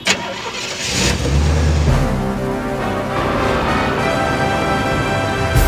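A motorbike engine in Ho Chi Minh City starts up and revs, then holds a steady, loud mid-pitched drone up close with no talking.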